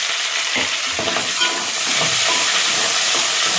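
Onion, coriander and curry leaves fry in a hot pan for bagara rice, making a loud, close, continuous sizzle that swells partway through, with a few scraping stirs and no speech.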